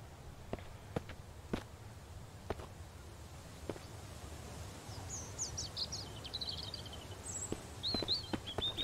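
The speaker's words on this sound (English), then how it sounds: "I like the bird sound and stuff" Birdsong in the Mist Survival game world, faint high chirps and trills drifting in the distance over quiet outdoor ambience, with soft footstep thuds spaced irregularly nearby.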